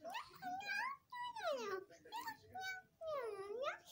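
A young kitten in a house gives a run of five or six high, drawn-out meows in quick succession, close and fairly quiet, with brief gaps between the cries.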